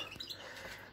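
Goldfinch hens in a nest give short, high chirps and squeaks in a quick flurry, heard close and fairly faint over a soft background hiss.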